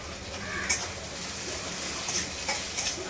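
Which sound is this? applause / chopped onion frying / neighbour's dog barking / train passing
chopped onion frying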